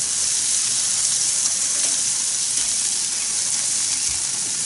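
Honeydew melon slices sizzle on a charcoal grill in a loud, steady hiss that holds unbroken throughout, with no voices.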